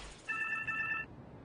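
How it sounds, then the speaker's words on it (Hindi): A phone rings with one short electronic trill, fairly faint, then falls silent. "फोन बज रहा है।"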